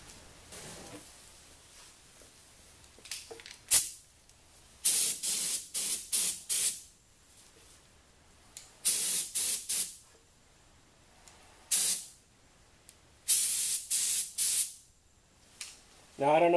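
A spray gun applying polyurethane paint and varnish in bursts, with repeated loud hissing passes of a second or so each, separated by short pauses, close to the microphone.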